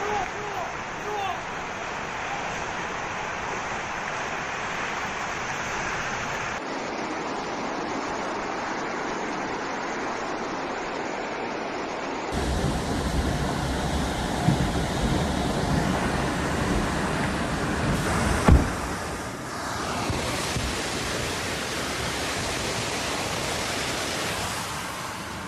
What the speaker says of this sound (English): Cameras caught the moment it collapsed, a roaring wave of mud and rock burying the road and river below.